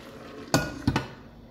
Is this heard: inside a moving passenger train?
no